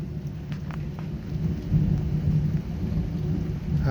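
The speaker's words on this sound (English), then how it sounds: "Wow, there's a gnarly ass storm right here." Thunder from a lightning storm rolling low and heavy for several seconds, with steady rain hissing underneath, heard from indoors behind a door, swelling and easing without a break and no voices.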